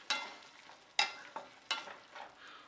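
Tomatoes with a little salt being stirred in a cooking pan, a few distinct scraping strokes at roughly even intervals, close and moderately loud with nothing else around them.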